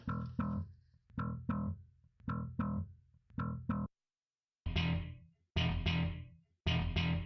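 A distorted electric guitar played through a Helix amp preset chops out short rhythmic stabs, a fast series of clipped hits, then a pause and several longer sustained chords, close and without talk.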